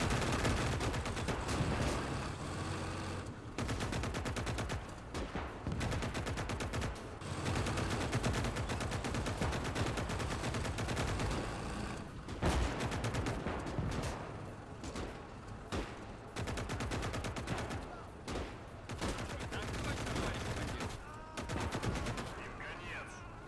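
Rapid bursts of automatic gunfire in the LosLife roleplay game, loud and sustained with brief pauses between volleys, filling the whole stretch without talk.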